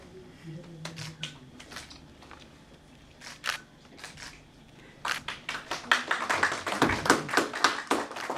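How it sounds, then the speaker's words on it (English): Clapping at an awards ceremony in New Delhi, starting as scattered sparse claps and building after the midpoint into a louder, irregular burst from a modest audience. "Please give a big hand."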